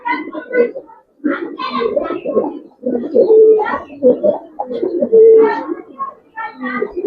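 A pigeon coos in low, rolling bursts close by, broken by short pauses, while someone talks over and between the calls.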